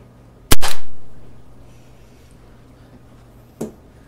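A Makarov Ultra CO2 blowback 4.5mm air pistol fires one sharp, loud crack with a quickly decaying tail, followed about three seconds later by a fainter click.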